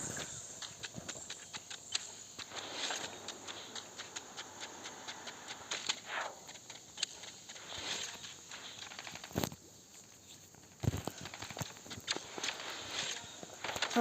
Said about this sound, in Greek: Ωραία, από εδώ ακούγονται βήματα.